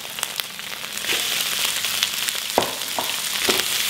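Kwetiau noodles stir-fry in a hot wok with a continuous loud sizzle, broken by several sharp scrapes and clacks of the spatula as the noodles are tossed.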